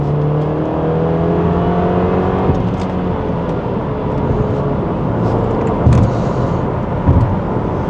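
A car engine revs loudly while driving, a continuous rumbling drone with rising and falling pitch and a few louder bursts near the end, no voices.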